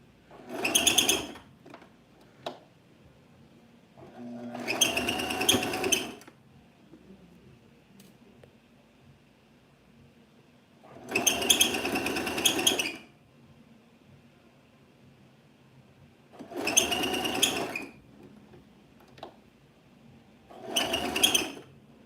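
A home sewing machine runs a tiered mini skirt's side seam through a ruffle seam in five separate bursts of steady mechanical whirring, each lasting a second or two, with quiet pauses between.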